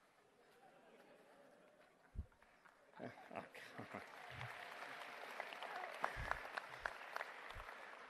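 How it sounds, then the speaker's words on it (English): An audience at a university graduation ceremony breaks into clapping that builds from faint scattered claps into steady, moderately loud applause, with a few sharp thumps near the microphone. "Why are you clapping?"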